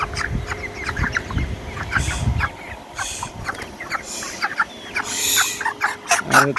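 A flock of broiler chickens clucking and squawking nearby in intense heat, irregular overlapping calls with rustling and a few louder cries near the end.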